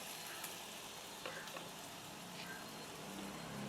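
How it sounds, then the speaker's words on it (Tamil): Garlic and ginger sauté in hot oil with a steady, soft sizzle and occasional light stirring clicks, quiet and continuous throughout. "எப்பயுமே வந்து உள்ளியும் இஞ்சியும் எண்ணெயில் வதங்கிக்க நல்ல ஒரு வாசனை வரும்."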